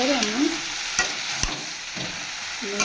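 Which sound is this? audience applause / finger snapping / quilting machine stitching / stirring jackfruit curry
stirring jackfruit curry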